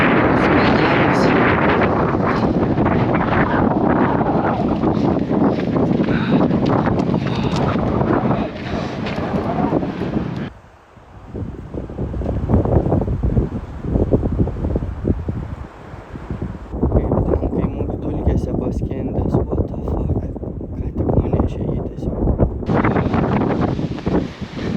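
Strong, cold wind in the Himalayas roars and buffets the microphone close up, loud and continuous with a brief lull midway before gusting back, no voices.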